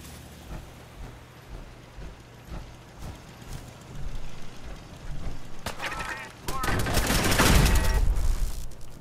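Video game turrets firing, with scattered sharp shots building into dense, loud rapid bursts over the final seconds, mixed with mechanical clatter and background game sounds.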